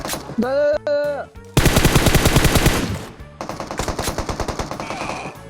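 Rapid automatic gunfire in the PUBG Mobile video game rattles in two long bursts of sharp, evenly spaced shots, preceded by brief tonal game sounds.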